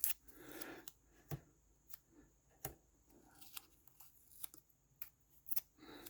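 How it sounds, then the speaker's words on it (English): Sheet of paper being torn by hand into four pieces for a dust jacket protector: a series of sharp, close rips and crinkles spaced irregularly, quiet overall, with no voices. "I'm going to kind of tear this into 4 pieces."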